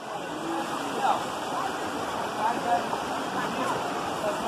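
The waterfall pool Poço das Cobras in Tinguá fills the scene with a steady, close rush of falling water, a constant broadband hiss that runs under a person talking.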